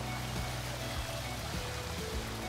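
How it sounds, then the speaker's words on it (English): Water trickles and splashes steadily over a rock water feature at the back of a pool, a constant soft hiss of falling water with no pauses. "as you can hear, this beautiful rock water feature that we added on the back of the pool"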